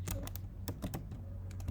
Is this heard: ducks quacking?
no